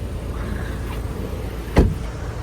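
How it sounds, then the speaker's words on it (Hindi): A car left idling with its engine running on a hot day, a low steady rumble throughout, broken by a single sharp thump near the end. "गाड़ी को मैं ऑन ही छोड़ रही हूँ क्योंकि गर्मी बहुत है"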